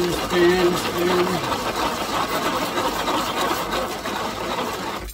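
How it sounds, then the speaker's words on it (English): A hand-spun chopper whirs and rattles steadily as its blades chop peppers inside, a continuous grinding churn that runs nearly the whole time, with a faint voice briefly underneath at the start. "He puts all the peppers in there and just spins this thing spin, around."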